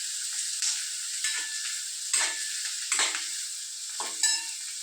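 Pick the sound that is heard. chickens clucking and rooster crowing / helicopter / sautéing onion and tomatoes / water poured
sautéing onion and tomatoes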